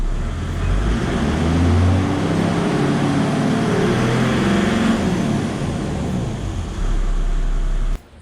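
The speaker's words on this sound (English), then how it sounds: "just give it a rev so you can see what the needle movement is like" A Toyota 79 Series Land Cruiser's 1HDFTE turbo diesel engine is revved in neutral, a loud, close, steady roar that holds for several seconds and then abruptly drops away.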